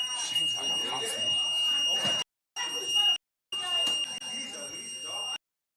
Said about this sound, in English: I don't want to listen to the fucking thing go. That buzzer.